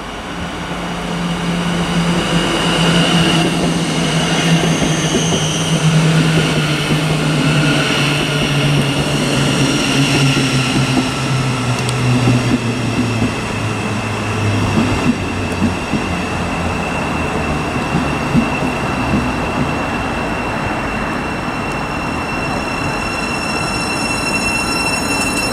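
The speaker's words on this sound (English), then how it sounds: "arriving now is the 11:44 Thameslink service to Peterborough, which is" Thameslink Class 700 electric train arriving at Stevenage station on the East Coast Main Line, a loud sustained rumble of wheels on rails with falling tones and squealing brakes as it slows, no voices.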